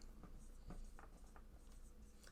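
A pen draws dividing lines and black piano keys on paper, giving faint, short scratchy strokes in an irregular rhythm over a quiet room background.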